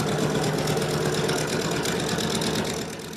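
A 1,900 horsepower radial engine on the war's largest single-engine warbird roars steadily and loudly, a dense rumbling drone filling the whole clip before easing off slightly at the very end.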